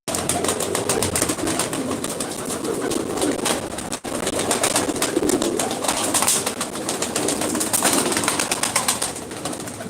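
Tumbler pigeons coo softly and repeatedly, with bursts of wing flapping, in a continuous, fairly close flock ambience.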